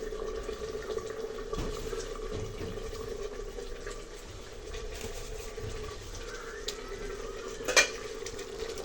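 Chopped onions fry in a pan for Italian pasta in a home kitchen, giving a steady close hiss of sizzling oil with faint stirring scrapes and one brief clink near the end.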